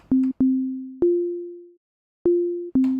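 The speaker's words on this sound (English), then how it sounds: "Just a simple sine wave, and then just give it a little amplitude envelope." A pure synthesized sine tone with an amplitude envelope, made in Serum, plays in separate notes, each starting sharply and fading out, with a short silent gap midway.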